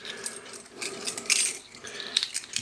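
A dime clinks and rattles as it drops into the coin lock of a Nik-O-Lok pay toilet, with a few light metallic taps and jingles up close and no voices.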